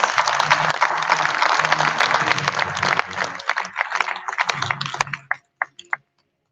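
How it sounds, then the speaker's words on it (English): An audience gives a warm round of applause, loud, dense clapping that holds steady, then thins into a few last isolated claps before silence. "Now I think that also deserves a warm round of applause."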